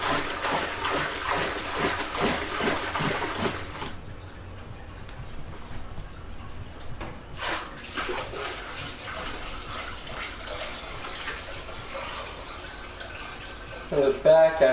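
Water pouring and splashing into a 40-gallon saltwater aquarium being set up, a steady gush that drops to a quieter trickle partway through, with a voice talking over it.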